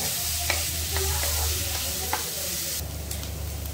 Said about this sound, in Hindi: इसे डाल देंगे और इसे मीडियम फ्लेम पे ही भून लेंगे